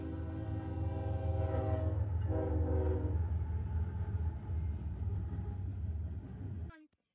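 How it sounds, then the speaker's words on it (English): A CEFX leased locomotive rumbles past close by, its horn sounding in two long blasts over the heavy engine drone before the noise cuts off. "Let's take a moment here and watch the CEFX locomotive pass."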